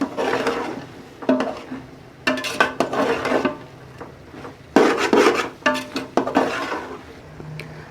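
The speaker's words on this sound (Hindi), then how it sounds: "हमने मैकरोनीज़ को अच्छी तरह से मसाले में मिक्स कर दिया" Boiled macaroni being stirred into spiced chicken qeema in a pan, a steady run of scraping and rubbing strokes with occasional clinks of the spoon against the metal, close and fairly loud, with brief pauses between bursts.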